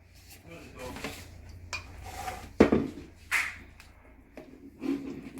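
Cream being mixed into chocolate frosting in a bowl for a keto chocolate tray bake, heard as scraping and clinking of a utensil against the bowl in irregular strokes, with a few sharper knocks, close and moderately loud.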